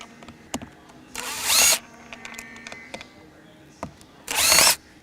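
Power drill backing screws out of the shifter housing on a 1990 Toyota 4Runner V6 3VZ 4WD, two brief, loud whirring bursts close by, separated by light clicks and handling taps.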